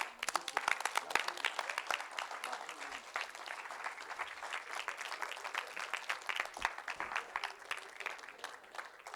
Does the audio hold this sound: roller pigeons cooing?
no